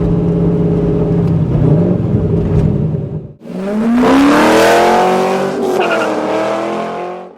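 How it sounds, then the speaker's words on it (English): A loud Corvette Z06 engine of about 500 horsepower idling with a deep rumble, then revving hard and climbing in pitch before easing off, close and with no voices. "it makes some pretty severe noises, and knowing you got pretty much 500 horsepower coming out of this engine"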